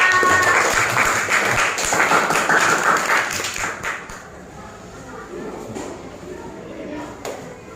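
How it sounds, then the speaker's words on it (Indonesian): Children in a classroom clap their hands together in a burst of applause that fades after about four seconds, leaving faint scattered claps while a teacher talks. "Tepuk tangan untuk teman-teman kita."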